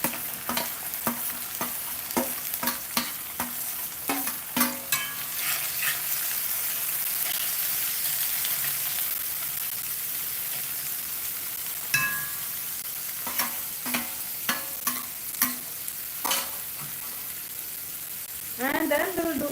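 Mixed vegetables frying in curry gravy over a low flame, with steady sizzling and repeated scraping, clacking stirs of a spoon against the pan throughout, close and moderately loud.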